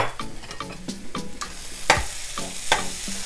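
Chili, coriander, garam masala and turmeric powders being stirred into onions frying in a pan, with rhythmic scraping and clacking of a spoon over a low sizzle, close and fairly loud.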